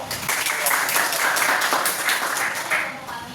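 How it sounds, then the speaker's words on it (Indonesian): A group applauds in a classroom during a teacher-training session on money and income. The clapping is continuous and moderately loud, with faint talk mixed in. "Tepuk tangan, Pak."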